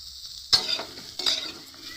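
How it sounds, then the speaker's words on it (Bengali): Soybean chunks and potatoes frying in oil in a pan, with a soft background sizzle and two sharper bursts as a utensil stirs and scrapes the food. "দেখুন এইরকম করে ভেজে নেব।"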